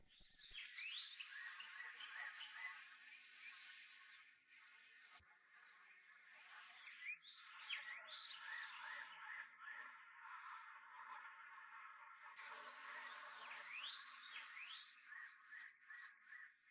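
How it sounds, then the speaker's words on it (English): Faint birds chirp in quick, high repeated calls over a quiet outdoor backdrop, the calls spaced out and gradually fading away toward the end. "Now I got these birds kind of chirping here at the end."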